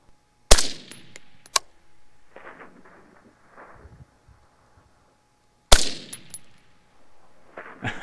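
Double-tap shots from a PSA AR-15 rifle fired at steel 800 yards away, two loud sharp cracks in quick succession about five seconds apart, each with a rolling outdoor echo. No distinct ring from the distant steel.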